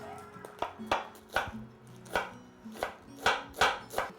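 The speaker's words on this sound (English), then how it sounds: "we will finely chop it up" Knife finely chopping mustard greens for Mien pickled greens: a dozen or so crisp, fairly close board strikes in an uneven rhythm, some soft, some sharper, with no talk.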